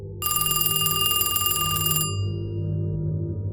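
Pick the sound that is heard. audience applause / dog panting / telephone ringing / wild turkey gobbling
telephone ringing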